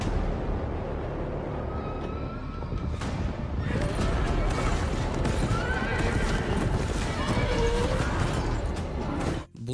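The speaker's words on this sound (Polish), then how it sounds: "Ciri kradnie konia i odjeżdża w poszukiwaniu Geralta" A horse from The Witcher series neighs loudly as its hooves gallop in a dense, continuous stream, set against a heavy rumbling soundtrack.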